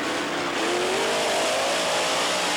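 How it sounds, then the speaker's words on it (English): The Bigfoot monster truck roars at full throttle while racing in a US Hot Rod Association event, a loud, dense engine wail with rising pitch that holds for a couple of seconds. "Bigfoot roars over"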